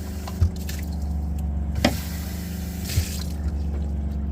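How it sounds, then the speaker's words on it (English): A water pump runs steadily while rinsing a boat engine filter, a constant close wash of water broken by a few splashy knocks and drips. "start off my water pump here just to rinse that."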